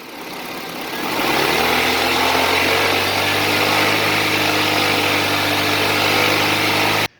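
A 2003 Honda Civic engine rises from idle and then holds a steady, raised speed with a continuous, even drone that stays close and loud until it cuts off abruptly at the end.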